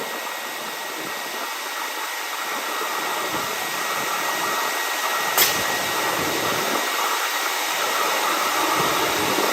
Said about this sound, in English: use my air wand